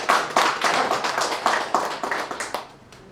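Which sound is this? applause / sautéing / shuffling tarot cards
applause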